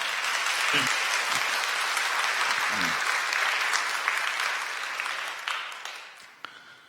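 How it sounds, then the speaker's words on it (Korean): A church congregation claps steadily for several seconds during a Sunday service, the applause gradually thinning out and fading toward the end. "여러분들 환영의 박수 부탁드립니다"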